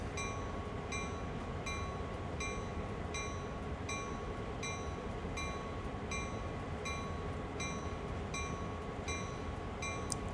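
A locomotive in Train Sim World 2020 runs at low throttle, giving a steady, dense rumble with a faint evenly spaced clicking of wheels over rail joints throughout.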